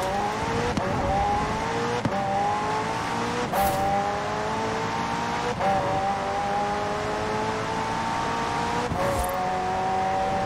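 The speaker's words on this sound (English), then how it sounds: "The car's blistering performance is delivered by a twin-turbo V8, supplemented by a McLaren ECU electric motor and instant power assist system" A McLaren twin-turbo V8 hybrid engine in Forza Horizon 4 climbs loudly through repeated gear shifts, each rising whine cut short by a brief break before it climbs again.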